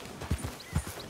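Horse hooves clip-clopping in the Red Dead Redemption 2 video game, a few soft irregular low thuds at a walking pace, fairly close and moderately quiet.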